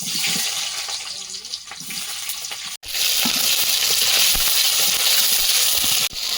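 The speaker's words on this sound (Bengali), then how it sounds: "আদা রসুন পেঁয়াজটা একটু ভেজে ভেজে একটু ভালো করে গন্ধটা চাওয়া পর্যন্ত ভেজে নিচ্ছি" Onion, ginger and garlic fry loudly in a pan of hot oil with whole garam masala, making a strong continuous sizzle that briefly drops out twice as the food is stirred.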